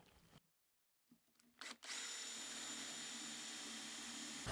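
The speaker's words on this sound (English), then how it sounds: "we're just going to drill it out so we can get the nut in" After a short pause and a few clicks, a drill press spins up and bores steadily through wood with a Forstner bit, a loud, continuous whirring grind.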